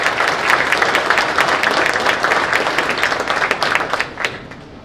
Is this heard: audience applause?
yes